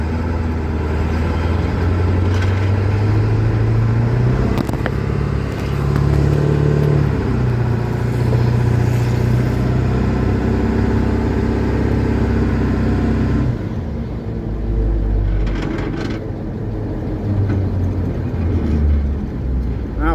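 A 1977 Ford HighBoy truck fitted with a 7.3L Powerstroke diesel drives steadily, its engine drone rising and dropping as it shifts through the gears, heard from inside the cab with a continuous road rumble.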